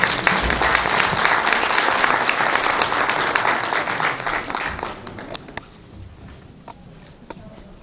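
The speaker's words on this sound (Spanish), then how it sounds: "Les damos un aplauso, por favor." A room full of people at a colloquium gives sustained applause, dense clapping that swells and then thins out to a few scattered claps and quiet by the end.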